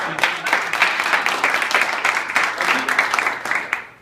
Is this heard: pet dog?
no